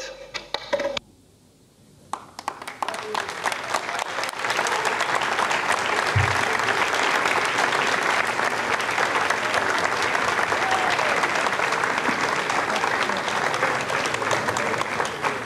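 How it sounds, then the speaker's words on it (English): Sustained applause fills the Jupiter control room after the Ariane 5 separation of KOREASAT 7, beginning after a short quiet gap and then holding steady and loud, a dense wash of many hands clapping. "you can hear the applause"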